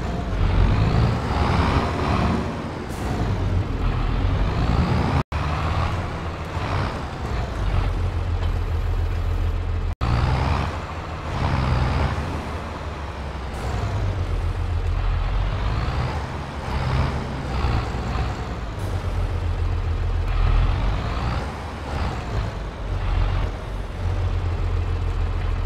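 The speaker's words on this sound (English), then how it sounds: "we're going to hop in our biggest tractor" The engine of a large farm tractor runs steadily, a loud continuous low rumbling drone with a little rising and falling, heard close up for the whole stretch.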